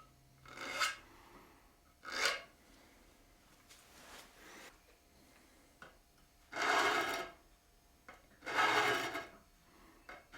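A file rasps along the sharp fret edges of a Stratocaster guitar neck in four or five separate close strokes, each a short scraping burst with quiet pauses between them.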